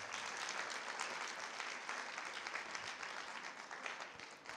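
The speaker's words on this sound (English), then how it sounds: "Please give yourself a round of applause," Learners at a university career expo opening give a long, even round of applause, a dense wash of many hands clapping steadily from a large audience, fairly distant and without any talk.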